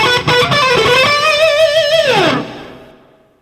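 Distorted electric guitar rips through fast pull-off and picking licks at full speed, a dense run of notes sliding into a long downward bend that fades out, loud and with no voices.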